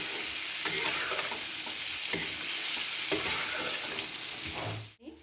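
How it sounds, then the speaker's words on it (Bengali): Papads frying in hot oil and being stirred for star fruit chutney, a dense continuous sizzle with a few sharp scraping stirs, cut off abruptly near the end. "পাঁপড়গুলো একদম ভালো করে ভেজে দিচ্ছি ভেজে তবে মশলা দিচ্ছি"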